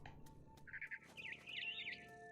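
A mother bird chirps in the video game What Remains of Edith Finch, with a quick series of bright twittering calls over soft ambient background and faint clicks, no talking.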